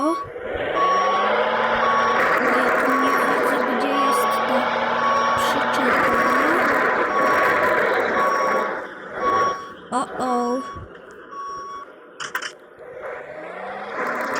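A truck reversing in a truck driving video game, with a steady, regular reversing beep over a loud engine drone, then a few clunks and scrapes as it fades. A voice talks over it.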